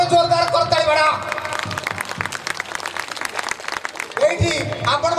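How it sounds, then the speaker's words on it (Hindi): Applause from an audience at a school platinum jubilee celebration, a dense wash of clapping that starts near and loud, thins in the middle, then swells again, with voices mixed in. "अरे एतिकी जोर न आउ फेर जोरदार करताली"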